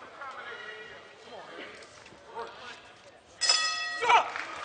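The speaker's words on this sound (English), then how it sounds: "And there's the bell to end round number 2." A boxing ring bell clangs to end a round at an armed forces boxing championship, a few bright metallic strikes rising over arena noise and a commentator talking.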